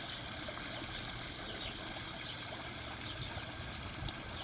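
A backyard pond waterfall trickles and splashes in a steady, continuous wash of running water, close by and evenly loud throughout, with no voices.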